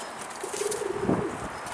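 Pigeons at a rooftop loft, one giving a soft sustained coo near the camera while wings flap and patter briefly around it, with no talk.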